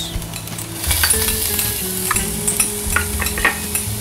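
Garlic cloves and a whole onion frying in oil in a pan, stirred with steady scraping and clinking of a utensil over a continuous close sizzle, with no talking.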